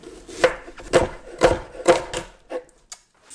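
Onions being chopped into strips with a knife on a wooden board, with carrots also being cut for a Flemish carbonnade; about six distinct close chops at a steady rhythm, the last ones lighter and trailing off.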